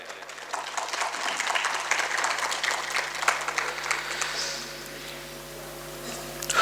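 Audience applause at an all-India mushaira (Urdu poetry gathering) welcoming an honoured guest; sustained clapping from a crowd in a hall with a steady mains hum underneath, easing toward the end.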